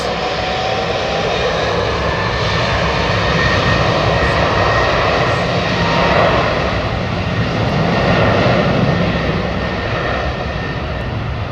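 A loud, steady roar of Boeing 777 jet engines spooling up close on departure, holding a broad sustained rumble with slight swells throughout, no voices.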